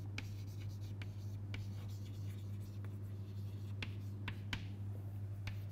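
A pen or chalk writes out mathematical notes, faint scratchy strokes and occasional taps spread over a steady low hum, with no talk.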